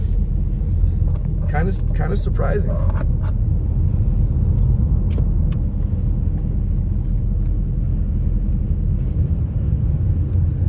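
Several cars drive up a snowy mountain highway during a storm, making a steady, continuous road rumble heard from inside a vehicle, with a short stretch of talk early on.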